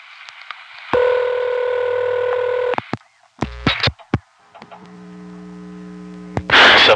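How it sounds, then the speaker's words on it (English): Telephone trunk tones and clicks sound on a line into a Crossbar 5 office through noisy pulse repeaters: a steady buzzing tone, then sharp clicks and bursts, then a lower hum-laden tone with a noisy burst at the end. "Awfully noisy pulse repeaters on the trunk"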